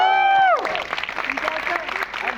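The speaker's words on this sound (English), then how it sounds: "Guys, let's have an applause for that." An audience applauds in a cinema theater at a fan meet, a burst of clapping and cheering that follows a held, shouted voice.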